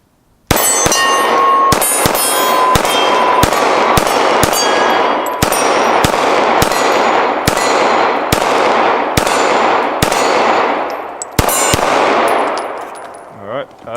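Loud, sharp gunshots from a Glock 19X pistol firing Federal ammunition, about fourteen reports at irregular intervals, each with a ringing outdoor echo tail and faint metallic clinks.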